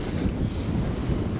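Strong gusting wind buffeting a sailboat at sea in rough, choppy water off Corsica, a constant loud roar of wind noise against the microphone with wave wash beneath.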